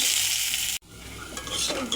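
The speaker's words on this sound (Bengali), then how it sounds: "এখন পেঁয়াজ কুচি ভেজে নেব।" Chopped onion frying in mustard oil and being stirred: a close crackling sizzle with scraping stir strokes, briefly cutting out for an instant before resuming, no talk.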